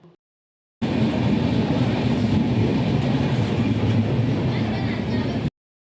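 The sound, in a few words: Pallavan intercity express train arriving at station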